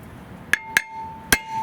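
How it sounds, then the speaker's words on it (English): Three sharp metallic hammer strikes on the middle of a Volvo XC front brake rotor ring out at uneven intervals, close and bright, over a faint steady hum. "If it doesn't come off by using your hands, you can use a hammer"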